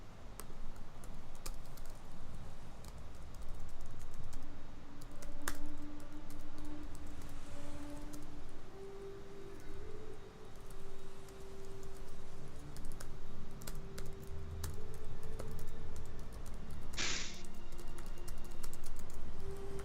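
Steady computer-keyboard typing, soft rapid key clicks running continuously for the whole stretch, close and moderately quiet, with a brief sharp click near the end and no talking.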